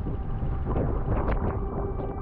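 Wind gusts against the microphone on a rainy cycling trip in Sicily, a loud low rumbling buffet that swells and eases over a couple of seconds, with no voices.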